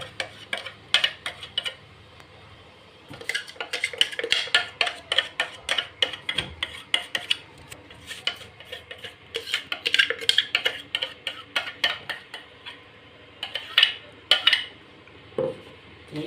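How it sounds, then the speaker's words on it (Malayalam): A utensil stirs flour into chocolate cake batter in a bowl, clinking and scraping against the sides in a steady, busy rhythm. The sound is close and moderately loud, with no talking. "ഇതാ ഈ മൈദ ഇതിലോട്ട് ചേർക്കുക ചേർന്നിട്ട് നല്ലവണ്ണം നല്ലോണം ഇതിലിട്ട് മിക്സ് ചെയ്തെടുക്കുക"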